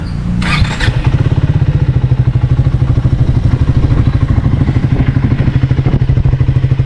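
A Triumph Speed 400 motorcycle engine starts and settles into a loud, steady, thumping idle, its deep exhaust pulses rapid and even, close to the listener.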